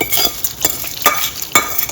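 Hot tempering sizzles as it is added to and stirred into cooked rice for tamarind-leaf pulihora. Several sharp scraping and clinking stir strokes come close over a low frying hiss, with no talk.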